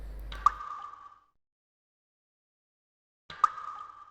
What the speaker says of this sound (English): There's an unused ambient audio track that sounds like water dripping inside a cave.